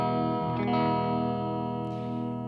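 Electric guitar through an Engl Savage 60 Mark II tube amp head on its clean channel, a single sustained chord ringing out with a shimmering effect tail and slow natural decay.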